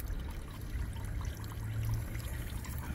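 Apple and raspberry juice runs from the tap of a press in a steady, soft trickling pour, quiet and close, with no talking.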